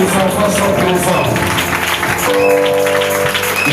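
A church congregation applauds and cheers in acclamation, a loud, sustained wash of clapping and crowd noise mixed with voices throughout.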